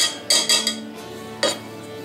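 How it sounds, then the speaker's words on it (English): A cup of sugar pours into a pot of strawberries in a home kitchen, with short, close bursts of grainy rushing and a light clink of the pot, then a final pour after a pause. "And you put in your cup of sugar."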